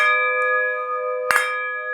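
Bells ring steadily with long, sustained tones that hang throughout, joined by a brief louder clang partway through, near and resonant with no talk.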